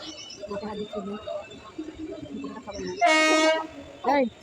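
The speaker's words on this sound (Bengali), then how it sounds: "আমাদের ট্রেন এখন চলে এসছে আর আমরা ট্রেনে বসেও গেছি" Station chatter at Rampurhat station gives way to a loud, sustained train horn blast as the train arrives, followed by a shorter toot, with voices talking underneath.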